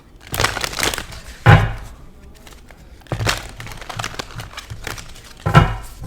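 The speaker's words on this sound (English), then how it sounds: "these cards are shuffling" Deck of personality cards being shuffled, with repeated bursts of crisp riffling and papery crackle, each ending in a sharper snap, close up with quiet pauses between.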